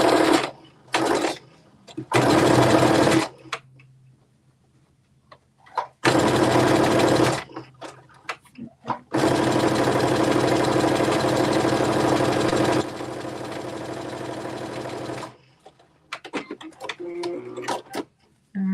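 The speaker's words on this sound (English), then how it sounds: "Sometimes I run over my pins with my my sewing machine." A sewing machine stitches fabric in several bursts of steady, close whirring and rattling, separated by pauses filled with quieter handling noises and a voice talking.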